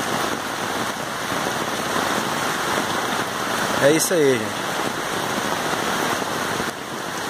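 Heavy rain pours down in Formoso do Araguaia, a steady loud hiss that fills the whole stretch, with a short spoken phrase near the middle.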